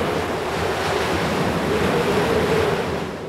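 Icy wind roars over the sea during an ocean sailing race with gusts near 40 knots, as steady surf and waves rush past the boat in a loud, continuous wash with no voices.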